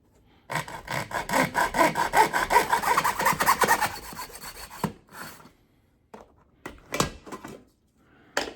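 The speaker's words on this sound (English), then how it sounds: "And using that miter box, just make sure it's a perfectly square cut, nice and smooth." Hand saw cutting a metal shower door track in a miter box, a rapid run of rasping back-and-forth strokes for about four seconds, then a few isolated scrapes and knocks.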